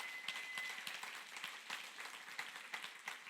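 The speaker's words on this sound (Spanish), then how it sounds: "Usted puede dar un aplauso ahora," A church congregation claps during a Spanish-language service, fairly faint and scattered, with a few sharper individual claps standing out over a soft, uneven patter.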